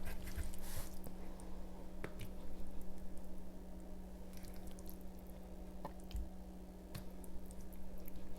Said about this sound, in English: So then we're just going to add some filling.